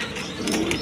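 Kagzi pigeons coo softly in a brief, low murmur, with a couple of faint chirps over a light background hiss.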